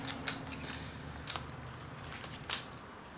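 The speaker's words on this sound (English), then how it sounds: "you can just start cutting into the top like this and getting the peaks of the flames" Scissors snip through craft material to shape flame peaks for tabletop terrain, a series of sharp, close, crisp cuts in irregular bursts over a quiet background.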